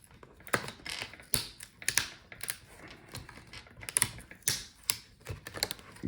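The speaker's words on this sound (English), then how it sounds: "So you have to wiggle this plastic to disconnect the clips" Plastic hinge cover on a Lenovo Legion Y740 laptop being wiggled loose from its clips, giving close, quiet clicks, creaks and snaps in an irregular series.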